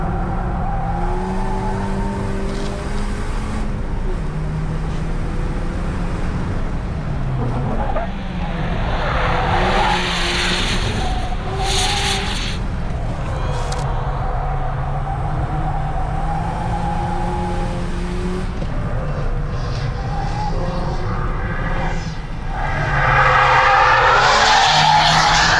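Ford Fiesta ST or BMW M850i lapping a race track, engine note droning steadily throughout with tire squeal and skidding bursts rising over it, loud and close, with a brief faint voice.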